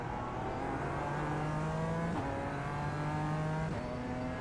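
A BMW M4 Evo GT4 race car in the iRacing sim at Zandvoort accelerates hard, its engine droning steadily and climbing in pitch, with a brief shift-like break midway, loud and continuous with no talking.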